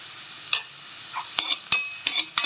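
Onions sautéing with rock salt in a pan for vegetable biryani, giving a soft sizzle broken by several sharp scrapes and clinks of a stirring spoon, close and fairly loud, with no voices.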